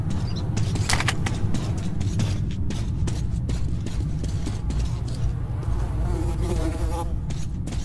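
Flies buzzing around the face in the video game Metro 2033 Redux, a close, continuous insect buzz with fluctuating pitch over low game ambience.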